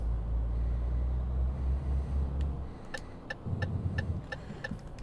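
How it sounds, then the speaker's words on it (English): A Renault Premium truck in Euro Truck Simulator 2 rumbles with a deep, steady engine drone that drops off as it slows, then turns into a pulsing low braking growl with regular ticking clicks. "It's slowing down, Jake brake, engine brake, retarder sound is really good."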